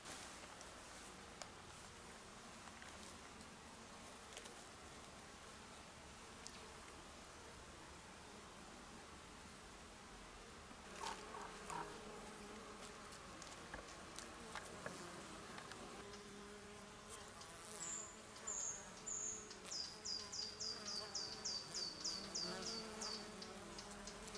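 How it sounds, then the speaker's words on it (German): A wild honeybee colony nesting in a tree trunk in a forest, a faint, steady buzzing drone heard from close by the entrance hole, with a few high bird chirps near the end. "ich habe beim Wandern im Wald gerade ein wildes Bienenvolk entdeckt"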